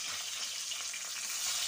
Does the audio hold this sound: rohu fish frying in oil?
yes